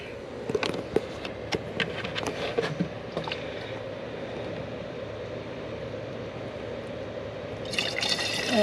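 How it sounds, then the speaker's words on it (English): Windshield washer fluid trickles and drips into a 2014 Chevy Cruze's reservoir, a gurgling pour with a few splashy drops early on, fairly close, then a brief clatter near the end. "See if I can get a better pour here."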